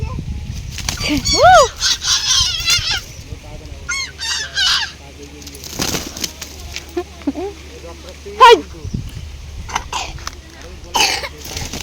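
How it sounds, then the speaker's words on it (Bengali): A chicken squawks and clucks in short bursts, close by, mixed with coughs and a few voices around it. "বন্ধুরা দেখো আমার ছোট মুরগি"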